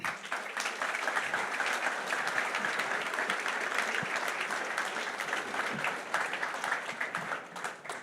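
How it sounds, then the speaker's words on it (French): Sustained audience applause fills a French evening round-table event, dense and steady throughout with no voices over it, as a guest is welcomed on stage. "Un tonnerre d'applaudissements pour Patrice Canaillé."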